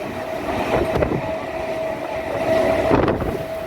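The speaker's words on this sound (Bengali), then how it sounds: "ট্রেন আসাতেই দুজনে মিলে উঠে পড়লাম ট্রেনে।" A suburban passenger train running between Sodepur and Badkulla in Bengal: a steady rumbling roll with a faint sustained hum and a couple of clunking jolts, heard from near the open door.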